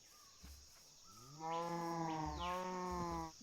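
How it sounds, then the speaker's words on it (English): A Minecraft cow lets out a long, loud moo with rich harmonics, close by, after a brief softer call earlier against quiet outdoor background. "You are loud, cows."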